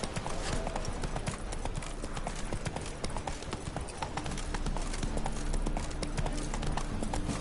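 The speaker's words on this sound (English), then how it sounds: "Whoa there, Roach. Not so fast, Roach." Horse hooves clip-clop steadily in The Witcher 3 on PS4 Pro, a loud, continuous rhythmic trotting with game ambience filling the background and no talk over it.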